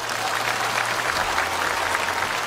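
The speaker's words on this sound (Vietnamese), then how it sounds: "Rồi, cảm ơn, cho một tràng pháo tay ai nhắc Ngô Thừa Ân." Audience applause at a Vietnamese Buddhist dharma talk, a steady wash of clapping that carries evenly through the short stretch at moderate loudness with no voice over it.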